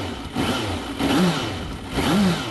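A Suzuki GSX650F motorcycle engine idles roughly, then revs up twice in short bursts, close and loud, with no voices.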